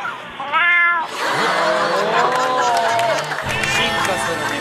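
A cat meows loudly up close in drawn-out, speech-like calls resembling a Japanese greeting, with television studio audience noise and clapping in the background.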